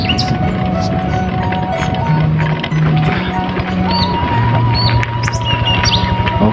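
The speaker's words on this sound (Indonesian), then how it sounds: "menikmati suara burung di alam" Birds chirp and sing over a steady wash of rural outdoor ambience in a village beside a safari park, with several tweeting calls layered over a continuous low hum.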